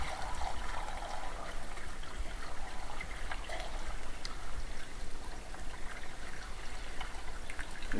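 Rainwater pouring from a roof gutter into a storage tank at an off-grid house during a leaking-roof repair, a continuous splashing, trickling rush of water that stays steady and fairly close, with no voices.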